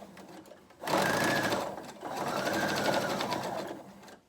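Sewing machine stitching fabric for a monogrammed mask, two loud close bursts of rapid steady stitching separated by a short pause, ending abruptly.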